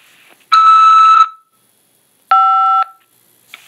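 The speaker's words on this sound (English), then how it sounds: "After the beep, press 5 to accept this call." On an automated prison collect-call line, a long electronic beep is followed after a pause by a shorter two-tone keypad press, both loud and clean against near silence.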